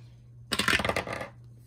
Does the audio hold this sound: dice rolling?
yes